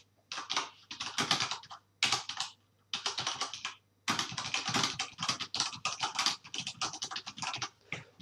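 Rapid typing on a computer keyboard in bursts of quick, close key clicks separated by short pauses, with no voices.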